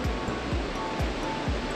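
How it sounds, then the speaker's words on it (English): An indoor waterfall inside a Dubai airport terminal gives a steady, full rushing of water that fills the clip, with a few soft low thumps underneath. "Also there is a waterfall behind the lift."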